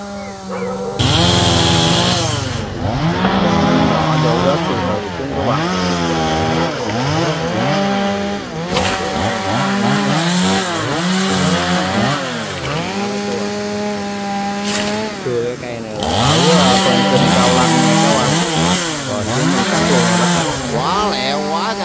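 Chainsaw cutting down two golden wattle (acacia) trees along a canal in Cao Lanh, the motor roaring loud and close and repeatedly revving up and bogging down as it bites into the wood throughout.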